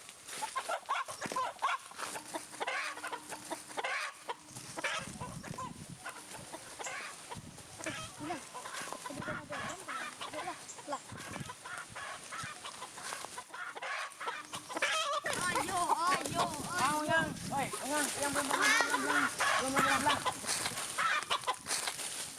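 Chickens cluck repeatedly and excitedly at close range, with a busy flock chattering throughout and growing louder toward the end.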